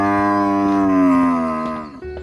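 An animated bull lows in one long, loud, drawn-out moo that slowly falls in pitch before breaking off, followed by a short fainter tail.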